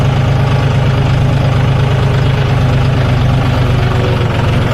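A new John Deere 5050 D 4WD tractor idles nearby at a farm field, its diesel engine giving a loud, steady, low chugging throb with even pulses throughout, alone and unbroken.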